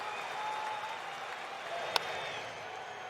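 Large baseball crowd of Yankee fans applauding and cheering at a Braves away game, a sustained roar near the final out with one sharp clap-like crack partway through.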